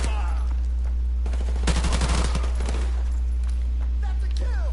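Call of Duty 4 submachine gun fire, a dense, loud burst of rapid shots around the middle, with sparse shots and scuffling movement before and after over a low constant hum.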